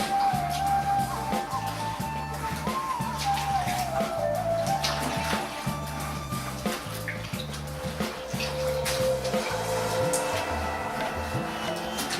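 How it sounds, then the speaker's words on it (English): Rag wiping around the inside of a plastic paint bucket holding dirty water, done over tile with a drop cloth: steady wet swishing and sloshing with rhythmic low scrubbing pulses throughout, close and continuous, no talk. "Just going to take my rag and kind of wipe around the inside."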